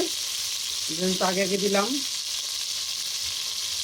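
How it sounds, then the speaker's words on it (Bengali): Chopped long beans with green chillies sizzle steadily in hot oil in a pan, a constant hiss running throughout while a voice speaks briefly in the middle. "এটা একটু তেলে সিদ্ধ হবে"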